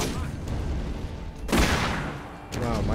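A rocket launcher fires in Borderlands with a loud, sudden blast midway, followed by a rumbling explosion that fades, amid dense game noise and a brief voice near the end.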